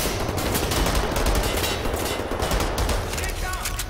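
Rapid pistol gunfire in Wolfenstein: The New Order, a dense, continuous volley of loud shots crackling over a noisy battle soundscape.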